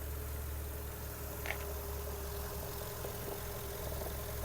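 A Volkswagen Golf 1.6 MPI petrol engine idles steadily at a low, even hum, faint and constant throughout with no speech.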